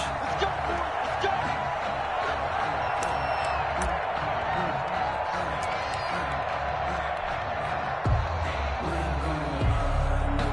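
Crowd in a football stadium before a Cincinnati Bengals versus Pittsburgh Steelers game, a dense, continuous roar of many voices with scattered whoops, steady and loud throughout.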